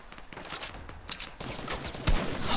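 Rapid gunfire in an arena shooter, irregular bursts of cracking shots that come in quick clusters and build toward a louder final volley near the end.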